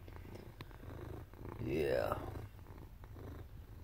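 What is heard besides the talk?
cat purring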